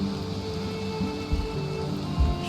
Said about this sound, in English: All this rain is going to wreck my beautiful house.